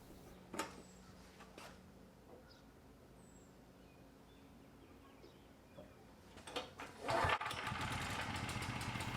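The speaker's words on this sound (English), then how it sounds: "start up the generator to make sure it's running correctly" A Briggs and Stratton generator engine pulls over a few times with faint bursts, then catches and runs with a steady, louder mechanical drone, with faint birds in the background.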